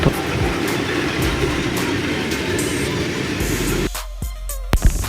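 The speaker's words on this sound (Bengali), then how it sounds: "তো হঠাৎ থেকে ট্রেন আসলো" A train rumbles past close by an eco park in Pabna, Bangladesh, with a steady, heavy roar and rattling wheels, then cuts off abruptly into quieter surroundings with a few sharp clicks.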